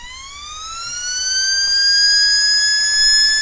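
A small RC cooling fan run straight off a 3-cell battery spins up with a rising high whine that steadies into a loud, continuous tonal hum.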